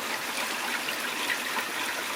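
Heavy rain from an atmospheric river pours outdoors in a steady, dense hiss, constant and fairly soft, with no voices over it.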